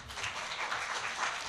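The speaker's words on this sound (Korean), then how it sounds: "박수 쳐주세요" An audience at a church Sunday school gathering claps for a young child's recitation, giving a steady, even wash of many hands that lasts the whole moment without voices.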